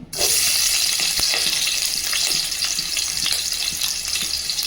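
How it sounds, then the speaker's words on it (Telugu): Loud, continuous sizzling of onions frying in hot oil, with a few sharp clinks and scrapes of stirring, no voices. "ఇప్పుడు గిన్నెలో ఆయిల్ వేసుకుందాం దీంట్లో మనము ఉల్లిగడ్డ వేసుకుందాం"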